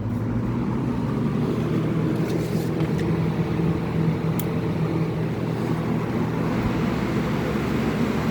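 Two box fans, one old and one new, running side by side on high speed, giving a steady, loud broadband whoosh with a low motor hum that holds constant throughout.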